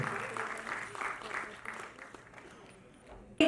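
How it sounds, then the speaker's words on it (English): Audience clapping at an awards ceremony, a soft, distant patter of many hands that fades away over a few seconds, fairly faint. "Big round of applause."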